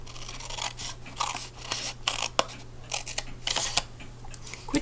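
Scissors snip through card for an Easter basket, a series of close, crisp cuts in an irregular rhythm over a faint steady hum.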